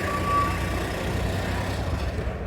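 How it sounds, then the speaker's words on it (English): A tow truck reverses to haul away a Jaguar car at a Bonhams auction, a loud steady low engine rumble with a brief high tone near the start and no voices. "Sorry, bear with me, it's pretty loud. I think they're gonna tow away the Jaguar."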